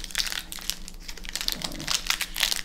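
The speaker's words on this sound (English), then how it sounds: "If only I could open the pack. I swear it just has extra glue." A Magic: The Gathering Avacyn Restored booster pack wrapper crinkles and crackles close up as it is pulled open, with steady rustling throughout.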